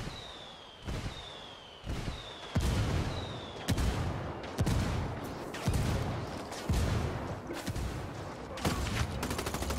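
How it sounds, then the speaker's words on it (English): In Ghost Recon Wildlands, rebels call in an artillery strike: a barrage of heavy, loud blasts about once a second, with descending whistles before the early impacts and rumbling debris between them. "Call the rebels for some indirect fire."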